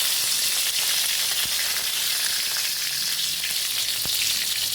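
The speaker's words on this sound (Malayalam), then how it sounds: "പിന്നെ കടുക് വറക്കണം. കടുക് ഇട്ടു, കരിവേപ്പില ഇട്ടു." Mustard seeds and curry leaves fry in hot coconut oil with a loud, continuous hiss and a couple of sharp pops, and no one speaks.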